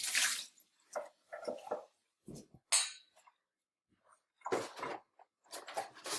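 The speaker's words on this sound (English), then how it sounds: "So I'm going to go ahead and rinse these, swirl them around, and dump them out in the sink." Glass beakers rinsed with water in a sink during a general science experiment: intermittent splashes, swirls and pours with drips and occasional glass clinks, close and moderately loud, separated by short quiet gaps.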